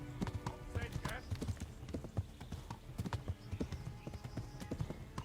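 Hooves of a horse galloping in the Kingdom Come: Deliverance video game, a fast, irregular clip-clop rhythm over an outdoor game soundscape, moderately close and continuous.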